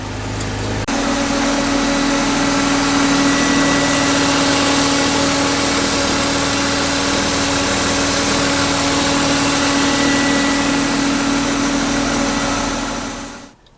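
A BMW E36 drift car's engine starting up and then idling loud and close for several seconds, a steady droning hum with constant vibration before it cuts off abruptly.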